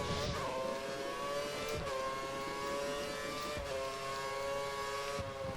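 Race car engines whine and buzz steadily in the video game F1 2013 at Imola, a high revving drone of a car following close behind, with slight pitch shifts.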